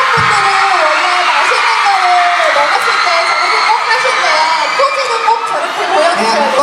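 Fans cheer together at a Thai-language press conference for Infinite in Bangkok, a loud, continuous crowd of shouts and whoops with a voice speaking over it.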